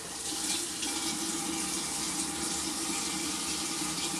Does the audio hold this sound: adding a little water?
yes